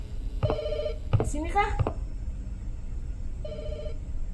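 Telephone ringing in the horror game The Shadow Over Route 80, two clear electronic ring bursts a few seconds apart, with a person speaking briefly between them.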